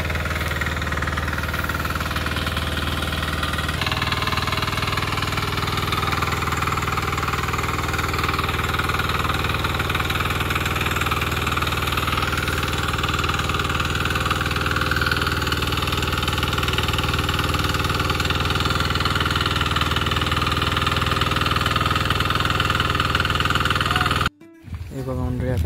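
A tractor engine runs in a field during modern ploughing and transplanting work, a steady, loud mid-pitched rumble with some knocking that continues throughout, then cuts out briefly near the end, with voices talking over it.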